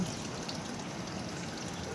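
Water pours steadily into a fully automatic washing machine drum, a soft, even rushing trickle with no breaks.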